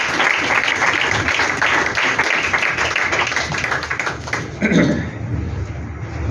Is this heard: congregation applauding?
yes